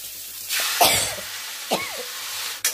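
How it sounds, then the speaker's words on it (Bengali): A person coughs a few times in a kitchen while dry red chillies are tempered in oil, with harsh bursts spread apart and a faint hiss in between, no speech. "এত কাশি এসে গেল যে ভিডিওটা বন্ধ করে দিলাম"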